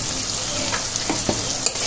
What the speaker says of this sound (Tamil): நல்லா கிண்டி விட்டுருவோம்.